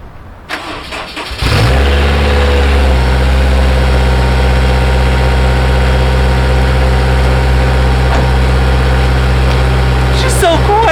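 A car with a stock catalytic converter cranks and catches, then settles into a steady, smooth, fairly quiet idle with a deep, even hum held for several seconds and no clear revving.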